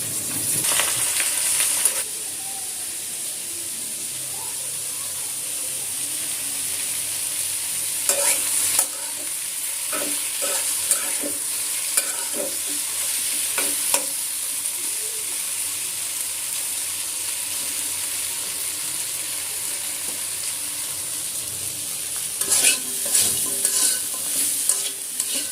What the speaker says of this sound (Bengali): বেগুনগুলো ভাজি করব। সাথে আছে কাঁঠালের বিচি, এগুলো একসাথেই ভাজি করব।